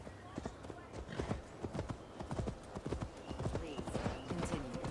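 Horse hooves while riding through a forest in Gloucestershire in the video game Assassin's Creed Valhalla, a quick, uneven clip-clop of many close hoofbeats, with voices talking over it.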